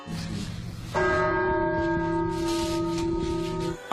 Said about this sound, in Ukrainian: Ще школярам провели майстер-клас із церковного дзвону.